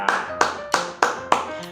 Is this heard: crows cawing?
no